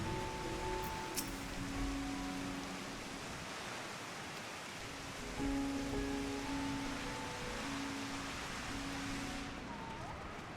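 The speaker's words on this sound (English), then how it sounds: "I like how the rain sounds on the tent" Steady rain pattering on a tent in the game Final Fantasy XIV, a dense continuous hiss with faint tonal music underneath, running evenly and moderately loud throughout.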